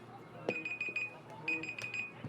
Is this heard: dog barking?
no